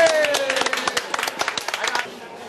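Audience clapping at a Thai boxing event, scattered sharp claps building into a brief burst under a faint background voice, then thinning out toward the end.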